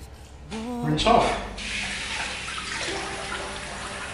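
A bathroom tap runs warm water to rinse shaving cream off a face, a close, steady splashing rush with brief sloshing bursts; a voice is heard briefly near the start.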